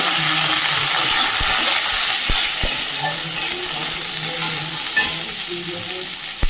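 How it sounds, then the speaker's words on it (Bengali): Chopped tomatoes and fried onions sizzle loudly in a hot pan, a dense continuous crackle with a few sharp knocks of a spoon against the pan. "পেঁয়াজটা ভাজা ভাজা হয়ে গেছে টমেটো কুচিগুলো দিয়ে দেবো"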